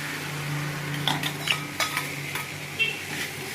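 Fish heads fry in a pan under a low, steady sizzle, with a few scraping stirs and light metal clinks, close and moderately loud.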